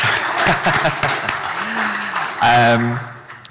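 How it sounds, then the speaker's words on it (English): Audience applause at a closing event session fills the room, steady and fairly loud, with voices talking over it and a brief tonal sound near the end. "So I think they deserve a round of applause"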